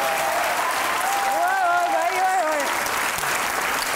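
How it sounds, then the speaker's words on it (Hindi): Steady applause from a studio audience at a televised celebrity interview show, loud and continuous, with a voice talking over it partway through. "तालियां बजाएं"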